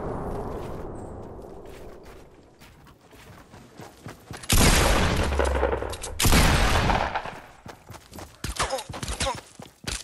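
Loud bursts of video game gunfire hit around 4.5 and 6.3 seconds, with scattered sharper shots trailing afterward over a faint ambient bed.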